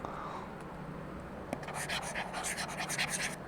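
A stylus scribbles on an e-ink tablet with a paper-like surface; the rapid, rustling strokes start after a quiet opening and continue close and moderately loud.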